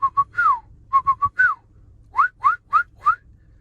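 A person whistles a secret signal that imitates a bird: a rhythmic run of short, bright notes, some flat and some sliding upward, in quick groups. It is loud and close, with no other sound.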